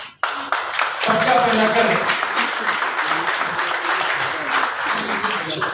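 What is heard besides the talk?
audience applause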